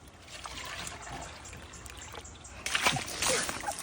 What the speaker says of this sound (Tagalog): Lalagyan ko lang tubig to.